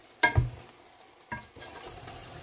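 Spinach chicken stirred in a cooking pot: two distinct scraping clanks of a utensil against the pot, followed by a soft, low sizzle, close and without talk.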